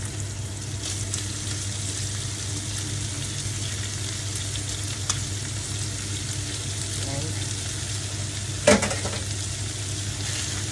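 Bamboo shoots (takenoko) fry in sesame oil with a steady, even sizzle and a low hum underneath, broken by an occasional utensil clink and one sharper clatter near the end.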